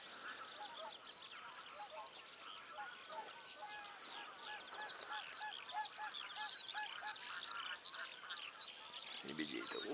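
Large flocks of geese and swans on a spring sea shore honk continuously in a dense, distant chorus, with faint wind and quiet voices underneath.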